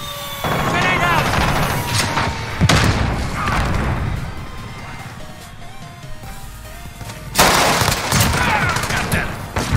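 A shooter video game battle with a grenade explosion amid rapid gunfire, loud dense bursts and booming thuds, with a player's voice talking over the action.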